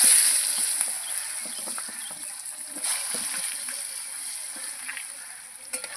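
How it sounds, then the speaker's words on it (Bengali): Cut potatoes fry in hot oil with spices for a fish curry, making a steady, close, bright sizzling hiss with small crackles throughout and a faint voice in the background. "আলুগুলো ভালো করে ভেজে নেব।"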